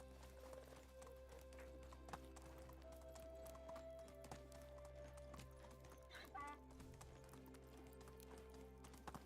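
In the video game Medieval Dynasty, a horse gallops in a steady rapid clip-clop of hooves with quiet background ambience and faint game sounds, and no speech.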